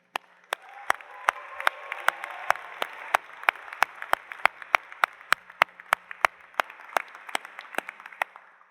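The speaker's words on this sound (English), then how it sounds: "They all deserve a round of applause for their support and guidance on the way to this celebration." Sustained crowd applause fills a graduation ceremony hall, dense clapping from a large audience with sharp individual claps standing out, steady throughout without talk.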